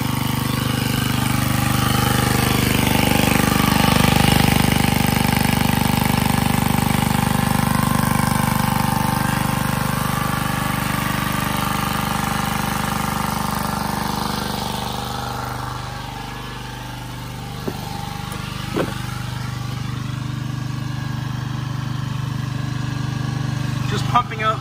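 A Generac gas water pump engine runs steadily while pumping out a basement, a continuous droning hum that shifts slightly in pitch midway, with a few brief clunks near the end and speech over it.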